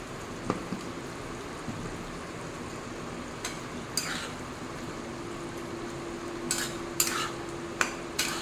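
Sugar being stirred into a pointed gourd and prawn curry in a pan, with soft sizzling throughout and scattered scraping clinks of a spoon against the pan, close and unhurried.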